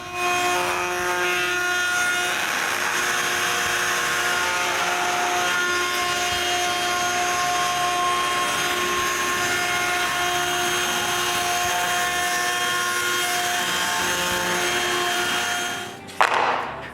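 A router fitted with a round-over bit shapes the edges of a wooden push-block handle, a loud steady high whine with cutting noise running for about sixteen seconds before winding down abruptly at the end.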